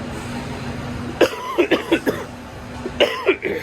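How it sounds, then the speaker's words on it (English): A person coughs in two bursts, several rough hacking coughs, then a short pause and a couple more, close to the microphone. "Excuse me, I've still got a cough."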